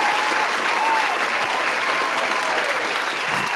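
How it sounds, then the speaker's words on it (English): Steady, dense applause from a crowd fills the whole stretch without pause. "we got to give a round of applause"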